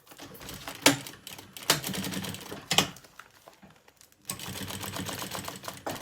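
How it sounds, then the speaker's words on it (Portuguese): A sewing machine stitches the lining of a kids' lunch bag in short, fast bursts, with brief pauses between runs and a longer steady stretch at the end, close and fairly quiet. "quando estão a costurar assim, empurrem esta parte para não ser costurada"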